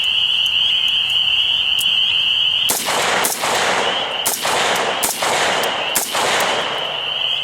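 An AR-15 fitted with a Manticore NightBrake muzzle brake and firing 55 grain Silver Bear ammunition lets off about five sharp, loud shots at uneven intervals, cracking over a steady high-pitched whine.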